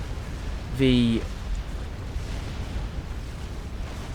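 Scathis artillery fire in the Forged Alliance Forever strategy game: one loud booming shot with a short whooshing tail, rising above a steady background of game noise while a commentator talks.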